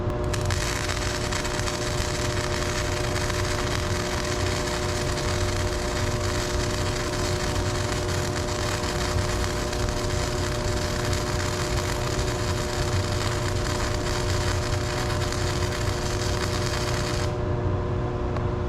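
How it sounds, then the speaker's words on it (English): Flux core MIG welding on 1/8 inch steel plate at 70 amps with a SONNLER 160A welder gives a steady, dense crackling buzz, loud and close, running continuously before cutting off near the end. "70 amps is pretty hot for this 1/8" thick plate. But the fact of the matter is it can weld it no problem."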